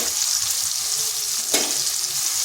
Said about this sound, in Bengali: তেলটা গরম হয়ে গেছে। তাতে সামান্য হলুদ দিচ্ছি যাতে না তেলটা ছিটায়। আর দিয়ে দিচ্ছি পেঁয়াজগুলো